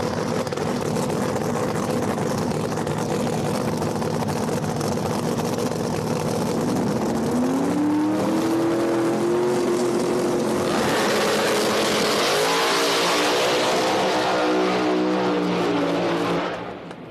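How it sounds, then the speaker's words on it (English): No Prep drag race cars making a pass at a Virginia event, a loud roaring engine that climbs in pitch with rising gear-shift sweeps, then fades and cuts off. "And Scott Taylor, nice pass there in the right lane"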